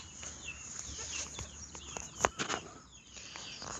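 Chickens and a small rooster at a poultry farm with Brahma and partridge breeds, giving scattered clucks, a few sharp calls and brief wing flaps against a quiet outdoor background.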